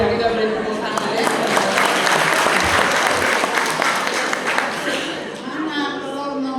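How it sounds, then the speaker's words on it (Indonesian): At an Easter church service, the congregation applauds with sustained, dense clapping that stays loud for several seconds and then tapers, with voices and murmuring under it. "Sudah kita beri tepuk tangan ya."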